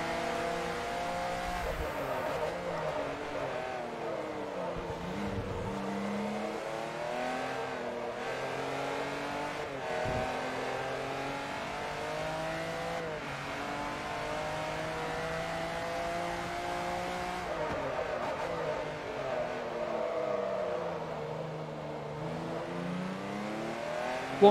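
Race car engine in Forza Motorsport 3, revving and accelerating steadily throughout with rising and falling pitch sweeps as gears change, a brief tire squeal early on, loud and continuous with no talk.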